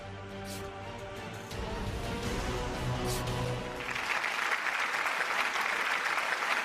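An audience at a public meeting with ministers in Peddapalli bursts into applause, a dense, loud wash of clapping that swells midway and keeps going steadily to the end.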